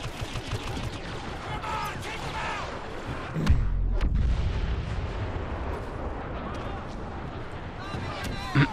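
Blaster gunfire in the Star Wars Battlefront game crackles in dense, continuous volleys with heavier booms midway, sustained battle noise filling the whole stretch.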